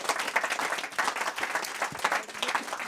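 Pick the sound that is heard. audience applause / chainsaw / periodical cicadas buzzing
audience applause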